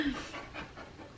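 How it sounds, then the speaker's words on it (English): A giant puppy pants softly and rapidly nearby, quiet rhythmic breaths with faint talk in the background. "This giant beast of a puppy."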